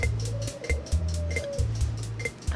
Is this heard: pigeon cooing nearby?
yes